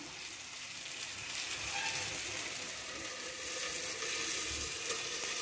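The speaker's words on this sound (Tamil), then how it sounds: "கொதிக்குது, இது ஓப்பன் பண்ணலாம்." A pot of pomfret fish gravy with jackfruit seeds simmers at a rolling boil, giving a soft, continuous bubbling and crackling sizzle that stays fairly quiet throughout.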